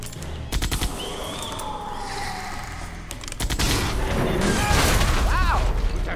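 Gunfire in Jurassic Park: The Game, with a rapid volley of shots that then grows into dense, sustained automatic fire and crashing impacts, all loud and close.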